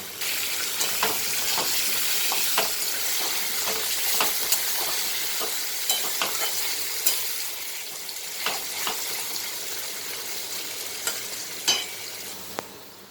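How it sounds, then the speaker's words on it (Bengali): Potatoes and onions frying with a little turmeric in a pan, a steady bright sizzle throughout with scattered sharp clicks of stirring, close and moderately loud with no talking. "আলু আর পেঁয়াজটা ভাজা হয়ে গেছে"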